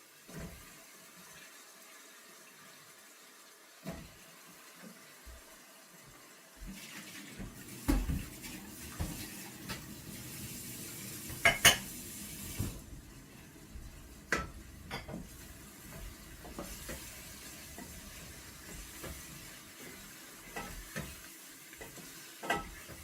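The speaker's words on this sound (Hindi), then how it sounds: "आलू जो है इनको मैं भून लूँगी कोई 5-7 मिनट" Potatoes fry in a pan for aloo gobi with a steady low sizzle, broken by irregular scrapes and clinks as they are stirred, close by and fairly quiet.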